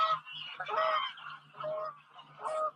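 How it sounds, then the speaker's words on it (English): Geese fly in honking, several nasal calls arriving in uneven bursts at moderate distance over a low steady hum. "the geese are coming in"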